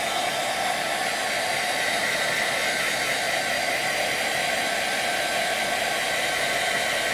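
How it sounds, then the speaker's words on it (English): Constant loud whooshing of a warm-air heat blower held close while drying layered ink on a handmade card, an unbroken steady hiss throughout with no talk. "hit this with a little more of our air here, our warm air, to kind of dry that second layer on top"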